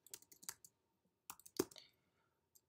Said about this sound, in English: So we can search in Google by typing the keyword